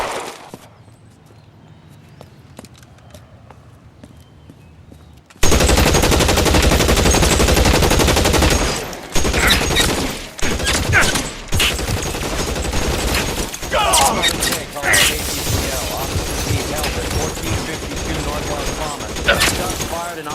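Gunfire in the L.A. Noire video game: after a quiet start, loud sustained bursts of rapid shots erupt and continue with brief pauses, mixed with game sound.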